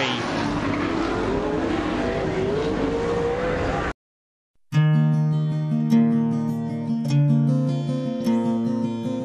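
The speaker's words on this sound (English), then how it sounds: "And the Super Sedan drivers 4 wide salute to the fans here at Speedway City." Super sedan race cars roar around the Speedway City track, four wide in a salute lap, as a loud, steady engine drone, then after a brief gap a second burst of strong, tonal engine noise.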